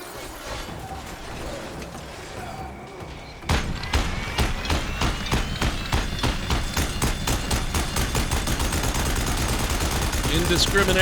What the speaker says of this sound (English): Indiscriminate heavy fire.